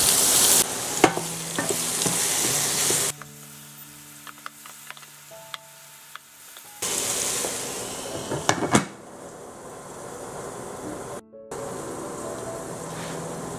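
Dry whole spices and bay leaves frying in a dry pan over reduced heat, giving a soft crackling sizzle with occasional stirring scrapes and clinks, close and moderately loud, with no one talking.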